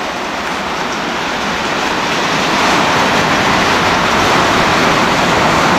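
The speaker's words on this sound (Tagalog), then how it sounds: "Lakas ng ulan, no?" Loud, dense roar of heavy rain pouring down beside a river, steady and unbroken, swelling slightly halfway through.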